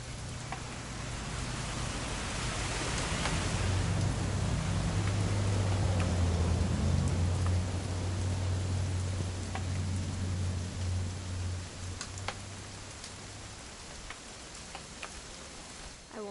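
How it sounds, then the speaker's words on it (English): Rain pours in What Remains of Edith Finch, a broad steady hiss that swells and then eases slightly over time. A low hum sits underneath and a few sharp ticks stand out. "It's gonna rain the whole weekend, isn't it?"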